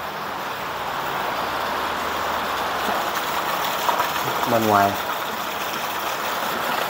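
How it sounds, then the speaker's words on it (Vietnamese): Heavy rainwater gushes through the gutter of an abandoned house during a downpour, a steady rushing wash under rain, with a person speaking briefly over it. "Máng sói này nó chạy rất là mạnh luôn á"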